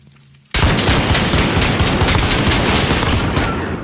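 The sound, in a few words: Martian rifle gunfire in a video game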